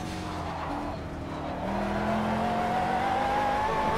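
A McLaren 12C in the racing game Project Cars accelerating hard along a coastal road, its engine droning steadily and rising in pitch with tyres squealing for traction, close and continuous with no talk.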